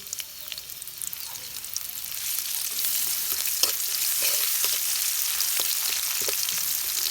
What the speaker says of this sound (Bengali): এখন তেল গরম হাসলে দিয়ে দিবি রসুন